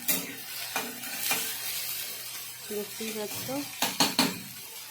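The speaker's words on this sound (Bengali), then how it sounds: "তো আমি এটাকে এবার একটু ভালো করে নাড়াচাড়া করে নিচ্ছি" Onions frying in a pan are stirred with a utensil, giving soft sizzling and scraping knocks against the metal at irregular intervals, fairly quiet, with someone speaking Bengali over it.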